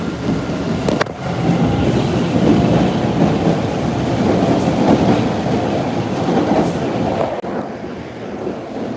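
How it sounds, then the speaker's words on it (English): A new MBTA Red Line subway train rolls through Downtown Crossing station with a loud, continuous rumble and wheel clatter, close by and steady for the whole stretch, with no voices. "I just saw the first new Red Line train,"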